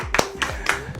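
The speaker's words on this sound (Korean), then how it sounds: "박수를 크게 쳐야지." Four loud, close, sharp hand claps ring out at an even pace, one person clapping on cue at a Yongpyong bike park event while introducing a coach.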